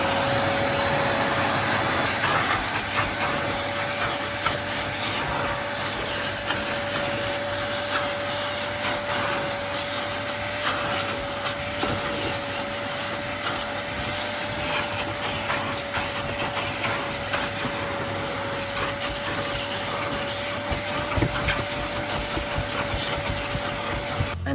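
A vacuum cleaner with a round dust brush attachment runs continuously while cleaning a car floor mat, producing a steady motor whine with faint rubbing and scratching from the brush, and no voices.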